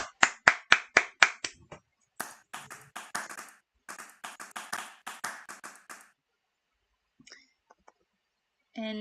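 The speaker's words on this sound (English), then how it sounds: "A round of applause for him." Sharp, close hand claps in a quick run of about seven, then a looser cluster of scattered claps from a few people at an art presentation event, thinning into silence with a couple of faint taps near the end.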